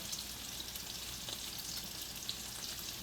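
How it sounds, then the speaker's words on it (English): Broccoli frying in a big hot skillet, a steady close hiss of sizzling oil with tiny crackles and pops throughout. "I got some broccoli I'm going to put on"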